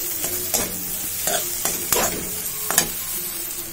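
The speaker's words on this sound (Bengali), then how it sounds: "ডিমটা আরো কিছুক্ষণ নাড়তে হবে।" A spatula scrapes and stirs egg in a hot pan while making egg varta, with repeated sharp scraping strokes over a steady low sizzle, close and fairly loud.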